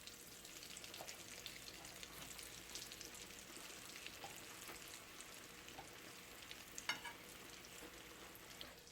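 Eggplant slices fry in a pan for a lasagna, a steady crackling sizzle of oil running throughout with a few sharper pops and spatters standing out near the end.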